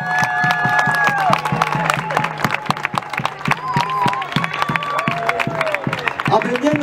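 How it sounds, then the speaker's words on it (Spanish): An audience claps steadily in honor of Laura Font at the Mathapi Apthapi Tinku event, with rhythmic applause and some cheering under a speaking voice and faint tonal sounds. "Un aplauso, por favor."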